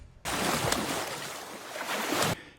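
Sharks thrash and splash in the water during a feeding frenzy, a continuous loud rush of churning water lasting about two seconds, with no voices.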